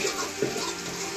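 Water poured into a mango curry mixture in a home kitchen, a short continuous splashing pour heard up close for about a second, with no talk over it.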